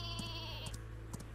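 Sheep bleats from the sheep weapon in the video game Worms W.M.D, three short nasal bleats spaced about half a second apart over a steady backdrop of game music.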